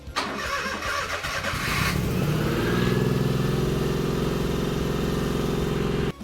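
A car engine, just swapped and back off jack stands with its booster hose still disconnected, cranks briefly and catches, then settles into a loud, steady, fast high idle that runs to the end.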